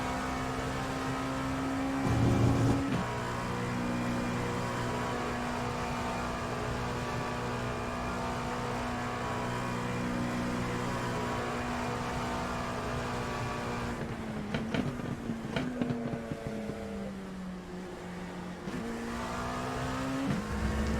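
An LMP2 race car engine on Road America in iRacing holds a steady droning note for a long stretch, then drops through gear shifts and revs back up, loud and constant with no voices.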